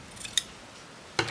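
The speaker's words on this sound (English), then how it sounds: "Let's just cut this little bit off." Scissors snip through ribbon for a fluffy handmade flower, two or three short, crisp close-up cuts separated by brief pauses, with nothing else heard.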